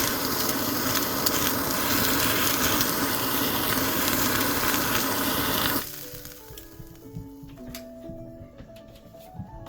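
Loud, dense sizzling of chashu pork frying in a hot pan, cutting off abruptly to quieter clinks and light kitchen handling.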